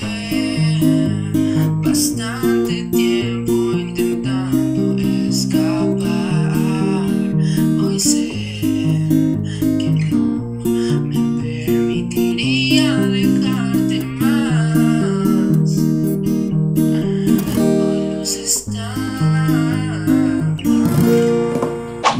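Guitar playing part of a song, a steady strummed chord progression with plucked melody notes, loud and continuous for over twenty seconds with no voices.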